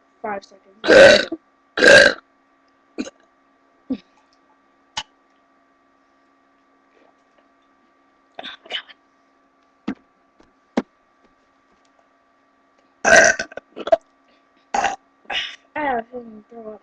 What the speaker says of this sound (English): you burp for like 5 seconds.